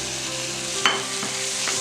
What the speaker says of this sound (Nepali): अब हामी मसला राखिसकेपछि यसमा गोलबेडा राख्छौँ।